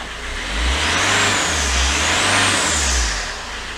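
A car engine, just after EGR valve work, revs through a few light accelerations, its low drone swelling and easing in a rhythmic pattern, close and loud with no talk.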